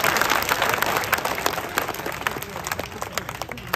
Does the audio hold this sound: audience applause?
yes